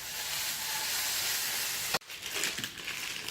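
Potatoes cooking in butter with salt and pepper, a loud continuous sizzle that cuts off sharply as a lid goes on, then continues more muffled.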